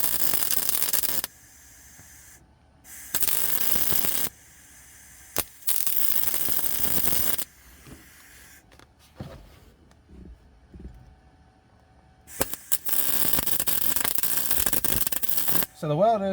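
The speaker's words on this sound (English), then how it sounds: "we'll tack weld this thing in" Tack welding a shifter mount inside a Honda Prelude: several loud bursts of crackling, buzzing welding arc, each lasting a second or more and separated by quiet pauses, with a long final burst toward the end.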